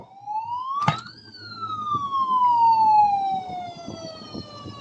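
A toy fire truck wails its siren up close, a rising electronic tone that peaks, then glides slowly downward and fades, with some faint handling noise underneath.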